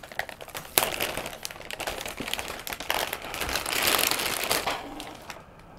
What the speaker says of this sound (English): I'm breaking the seal here.